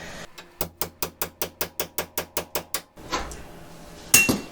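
A hammer strikes a pickle fork wedged into a tie rod end on the steering linkage of a third-generation Camaro: about a dozen sharp metallic blows in an even, steady rhythm, close and loud, then a brief clatter.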